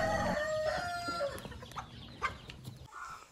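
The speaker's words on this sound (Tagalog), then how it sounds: "ang ating mga Rhode Island Reds. Itong mga manok ko to" Rhode Island Red chickens cluck and call close by, with a crowing note mixed in among overlapping bird voices, then a brief pause near the end.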